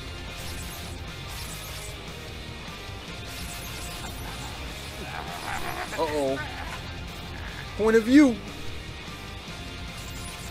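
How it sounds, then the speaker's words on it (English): Animated fight impacts as Super Saiyan 2 Gohan smashes Cell Juniors, with two loud bursts landing in the second half over a steady background of game audio and a talking voice. "Gohan smashes Cell Juniors."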